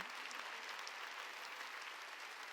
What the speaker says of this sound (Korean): 깨달은 사람 박수 치는 거죠.